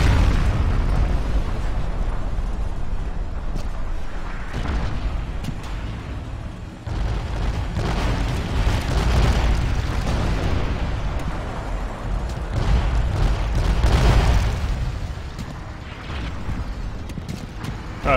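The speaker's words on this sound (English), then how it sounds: "Artillery coming in." Artillery shells landing in the Forgotten Hope 2 multiplayer war game, a run of deep, rumbling booms rolling one after another over sustained battlefield noise, loud and continuous without speech.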